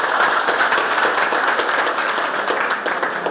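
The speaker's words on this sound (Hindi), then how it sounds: "एक बार ज्ञानपीठ संस्थान के लिए जोरदार तालियां" An audience applauds loudly for the Gyanpeeth Sansthan, with dense, sustained clapping from a crowd that stays close and steady throughout.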